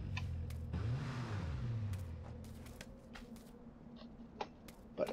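A vehicle in the PUBG video game starts up and is driven off nearby, a low engine rumble that swells briefly and then fades, with a few faint clicks near the end.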